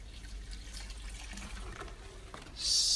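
Water trickles and splashes softly onto potted houseplants, a faint continuous pour with a brighter, louder splash at the very end.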